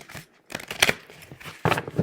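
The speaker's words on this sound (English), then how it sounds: "Give these a good ruffle shuffle" A deck of cards being riffle shuffled up close, heard as short, crisp fluttering bursts separated by brief pauses.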